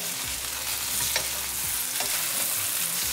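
Pollock fish pieces pan-frying on medium gas, a loud, dense, continuous sizzle with faint crackles, close.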